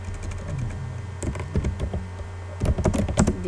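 Computer keyboard being typed on to enter text, with irregular clusters of close, crisp key taps picking up toward the end, no talk.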